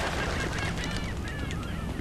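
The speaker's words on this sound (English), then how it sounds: "You know, like them seagulls, Franklin?" Seagulls call in the GTA V video game, several squawking cries over a constant loud noisy game background for about two seconds.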